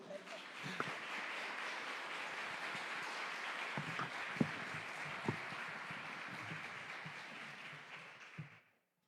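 Church congregation applauding the Lord during a service, dense continuous clapping from a crowd with a few sharper claps standing out, fairly faint, cutting off abruptly at the end.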